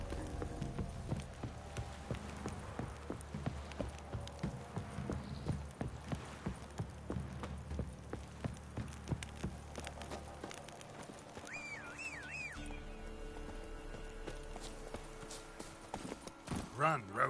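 Hooves of Geralt's horse Roach galloping in The Witcher 3, a steady fast clip-clop running through the whole stretch under game music and background sound, with faint voices now and then.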